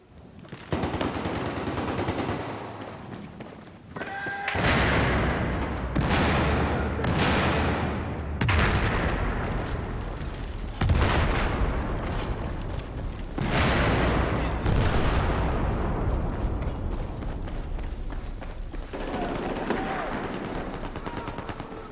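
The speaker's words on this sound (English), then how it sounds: "Throwing grenade." Video game combat plays loud and continuous, with a grenade explosion among dense machine-gun fire and repeated heavy booming shots. The bursts overlap through the whole stretch, and a voice briefly sounds in places.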